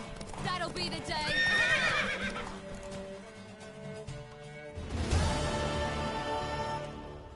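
A horse in The Witcher 3 whinnies loudly in a long, wavering neigh up close, joined by clip-clopping hooves, with a second neigh later over continuing hoofbeats and game speech.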